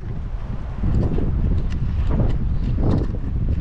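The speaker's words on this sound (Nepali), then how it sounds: "अहिले यसो बाहिर निस्केको होइन हावाहुरी लाएर भिजोक रहेछ र अहिले मौसम यस्तै छ" Strong, stormy wind outdoors in Japan buffets the microphone as a steady low roar with gusts swelling and easing, no voices.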